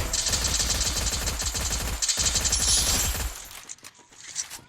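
Dense, rapid bursts of gunfire crackle through a Free Fire match where an AWM sniper rifle is in use, loud and close, thinning out into scattered softer shots near the end.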